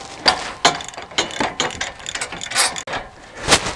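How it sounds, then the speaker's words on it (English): A 24mm socket on a ratchet tightens the swing arm of a bike rack, giving bursts of quick, close metallic clicks in an uneven rhythm with brief pauses between strokes. "A 24mm socket will make this a lot easier and a lot quicker."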